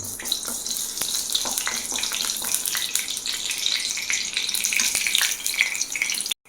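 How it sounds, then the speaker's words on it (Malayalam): Mustard seeds splutter in hot oil for a banana-stem and horse gram stir-fry, producing dense, continuous crackling with sharp pops scattered throughout before stopping abruptly. "അതിലേക്ക് നമുക്ക് ഈ കടുക് ഇട്ട് കൊടുക്കാം കടുകൊന്ന് പൊട്ടട്ടെ"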